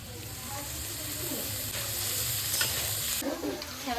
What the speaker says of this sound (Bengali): এবার আমি গাজর এবার আমি ক্যাপসিকাম দিয়ে দেবো